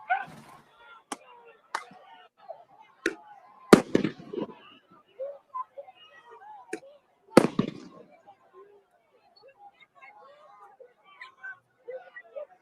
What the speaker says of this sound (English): they're firing flashbangs